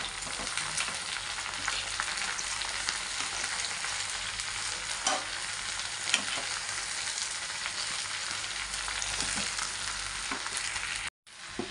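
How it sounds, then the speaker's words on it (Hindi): Okra (bhindi) stirred in a pan with chunky chaat masala and coriander, a continuous bright sizzle with light scraping and occasional soft knocks, fairly quiet and close, no voices, cutting out briefly near the end. "अब इनको हम अच्छे से मिलाएंगे।"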